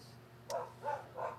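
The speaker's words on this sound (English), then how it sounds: "sorry about the dogs" Dogs bark off to one side in three separate bursts, fairly faint over a low steady hum, with no talking in between.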